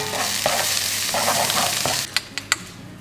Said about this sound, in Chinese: 刚刚的腊肠丁下锅，还有香菇一起下去炒，